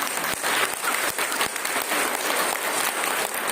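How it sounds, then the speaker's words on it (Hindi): A church congregation claps together in a steady, dense burst of applause, sustained throughout with a few sharper individual claps standing out. "चलो सबके लिए ताली बजाते हैं।"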